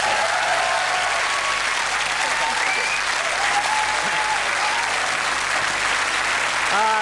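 A studio audience applauds steadily at a 1991 television talk show, with dense, sustained clapping and a few cheers or whistles over it, loud and continuous throughout.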